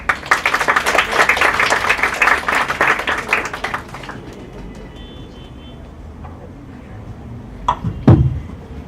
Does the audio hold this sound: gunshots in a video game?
no